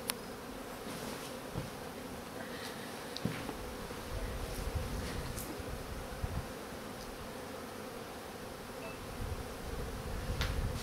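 Bees hum continuously around an open beehive, a dense close buzz with individual insects flitting past the microphone now and then, no talking.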